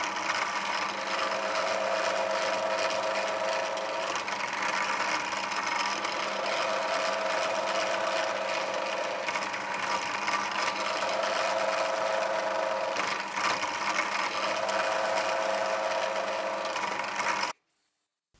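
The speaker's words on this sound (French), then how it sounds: "je vais d'abord prendre le manche sur lequel je vais utiliser et je vais percer." A carbon fibre knife handle being drilled gives a steady, loud machine whine with a faint grinding edge, running without a break for about seventeen seconds before it cuts off suddenly.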